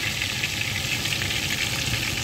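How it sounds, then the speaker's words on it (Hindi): Spring onions fry in a pan with a dense, continuous sizzle that holds an even level from start to finish, with no voices. "और साथ में ये स्प्रिंग ऑनियन है इनको फ्राई करूँगी"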